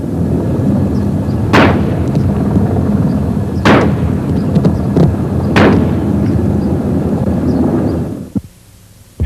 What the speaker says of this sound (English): Officers, maintaining their distance, returned fire with shotguns and handguns.